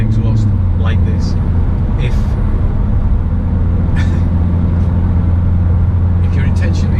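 A Jaguar F-Type R fitted with an STG exhaust drones at a steady, loud low rumble while driving, heard from inside the car, with a voice talking over the engine noise.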